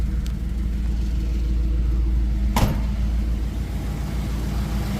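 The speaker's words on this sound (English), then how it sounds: "The idle sounds pretty good." A Nissan S15 idles with a steady low rumble, close and even, with one brief sharp click partway through and no talking.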